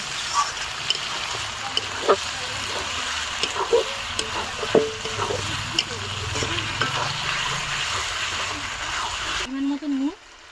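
Chicken being sautéed in spiced oil with chilli powder for chicken ghugni, a soft continuous sizzle with occasional stirring clinks and scrapes beneath a person talking, ending abruptly.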